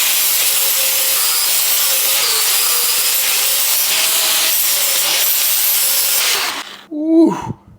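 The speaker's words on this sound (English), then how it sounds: "the game plan now is to sand down the edges here, making sure we get a nice clean weld" Steel edges are sanded to prep for welding a BBQ table, giving a loud, continuous abrasive hiss and grind heard up close for several seconds before cutting off abruptly, followed by a short rumble.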